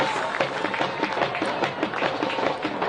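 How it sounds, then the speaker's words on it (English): A soccer match crowd breaks into applause, a dense, continuous patter of many hands clapping from the stands, steady and moderately loud for a few seconds. "Crowd responding to that with applause"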